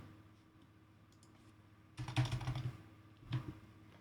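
A short flurry of computer keyboard typing, close clicking keystrokes starting after a quiet stretch, then one more brief tap cluster near the end.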